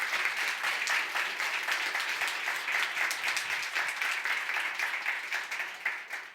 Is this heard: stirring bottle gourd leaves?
no